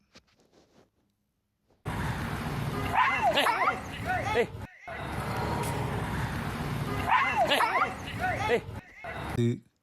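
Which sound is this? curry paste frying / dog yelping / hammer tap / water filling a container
dog yelping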